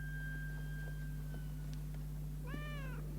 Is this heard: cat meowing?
yes